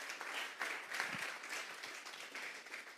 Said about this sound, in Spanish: Vamos a darle un fuerte aplauso pues al Señor.